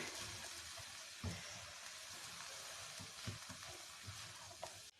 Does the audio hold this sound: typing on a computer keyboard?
no